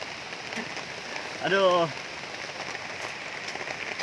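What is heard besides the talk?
heavy rain falling in the forest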